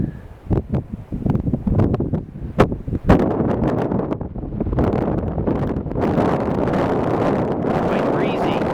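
Gusty wind blows across the microphone at Evolution Lake in Darwin Canyon, a high mountain lake. Early scattered knocks and rustles give way to a steady, loud roar.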